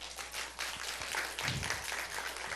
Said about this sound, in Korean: 저희를 대표해서 이렇게 포럼 같이 해주신 그 중직자분들에게 박수